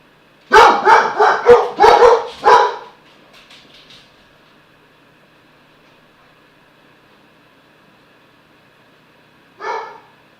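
A dog barks in a quick burst of about five close, loud woofs, then the room falls quiet until one more bark comes near the end.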